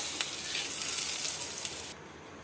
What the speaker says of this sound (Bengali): মাশরুমটা ভাজা হয়ে গেছে,